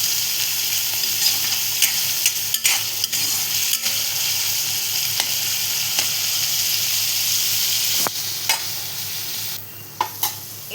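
Onion sautéing in a pan for a village-style korla leafy vegetable dish with chana dal, giving a steady close sizzle with occasional stirring scrapes throughout, no voices.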